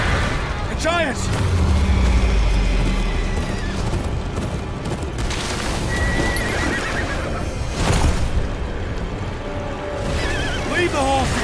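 Horses whinny and neigh with clip-clopping hooves in the Game of Thrones: Kingsroad video game, several loud calls rising over rumbling ambience and spoken game dialogue.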